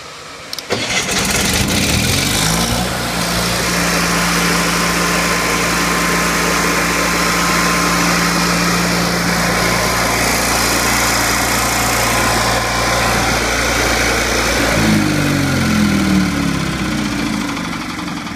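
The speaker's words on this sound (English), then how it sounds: "Go ahead and turn the machine on." A Miller Trailblazer 251 portable welder's engine cranks and starts, then runs loud and steady at a constant idle for the rest of the stretch, with no talk over it.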